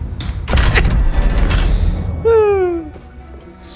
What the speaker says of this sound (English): Nothing to see here. Just some random explosions.